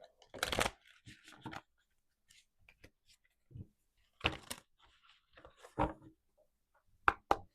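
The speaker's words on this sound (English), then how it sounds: "Shuffle that one more time." A deck of tarot cards is shuffled close up in a quiet room, in several brief crisp riffles and bursts separated by pauses.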